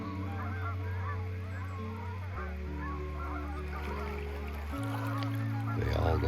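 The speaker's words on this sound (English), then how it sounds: "The geese are all gathering together to head south." Flock of geese gathering to migrate south, many overlapping honks chattering continuously at moderate distance over a low droning background hum, no speech.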